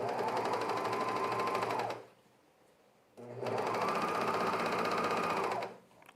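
A sewing machine stitches fabric for men's underwear in two steady, fast-running bursts of close, even whirring, separated by a brief pause.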